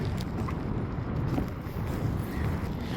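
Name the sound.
strong wind blowing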